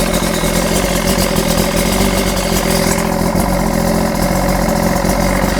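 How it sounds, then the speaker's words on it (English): A loud, steady boat engine idles continuously with a rough, rumbling drone and constant mechanical clatter, close by and without speech; the damaged boat was bought at auction and just restarted. "We got a running boat, you guys."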